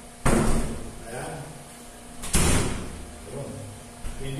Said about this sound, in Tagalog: Hindi siya nagsasara ng maayos.